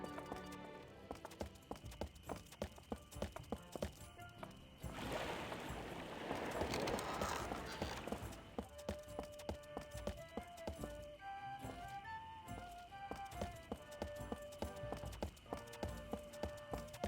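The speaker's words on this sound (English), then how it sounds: "See, I hear the footsteps right there." Footsteps in the video game Escape from Monkey Island, a steady run of short rhythmic clip-clop taps over game music, with a louder washy noise burst partway through.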